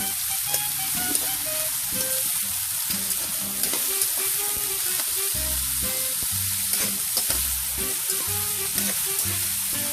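Potatoes frying with pork mince in a pan give a constant bright sizzle, broken by repeated scraping and stirring sounds from a utensil against the pan, close and steady with no talking.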